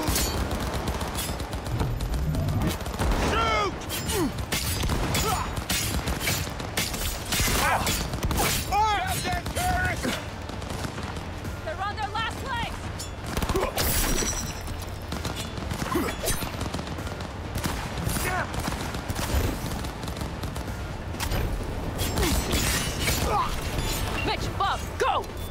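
Sustained heavy gunfire during a tank heist in Cyberpunk 2077, with dense bursts of automatic shots and mechanical clatter running throughout while people shout over the din.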